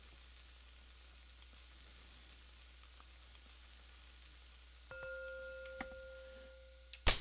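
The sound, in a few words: food sizzling while cooking in Cook, Serve, Delicious video game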